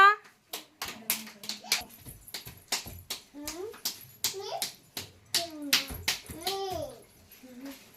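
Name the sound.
children clapping hands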